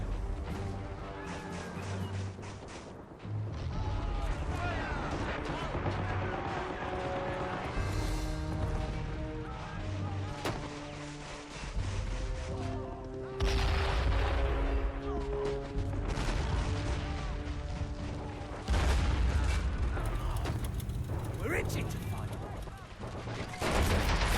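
Battlefield explosions and gunfire in Men of War: Assault Squad 2, with repeated loud blasts, crashing impacts and rattling shots layered densely over nearly half a minute, while voices and music sit underneath.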